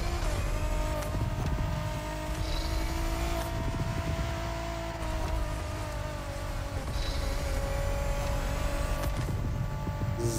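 A Nissan R35 GT-R Nismo races in The Crew Motorfest, its engine holding a steady high drone at full speed with occasional thumps and shifts, loud and close throughout.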